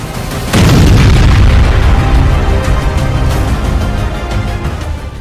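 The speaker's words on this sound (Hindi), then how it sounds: "ये धमाका रूस में हुआ है" A huge, deep explosion in Russia erupts suddenly and keeps rumbling loudly for several seconds as it slowly fades.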